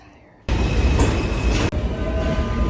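A train in New York City bursts in suddenly with a loud, close, steady rumbling roar that keeps running to the end, briefly dipping partway through.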